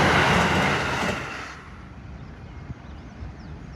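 A train passes along a railway in Japan, a loud broad rushing roar that fades within about a second and a half, leaving a quiet outdoor hum.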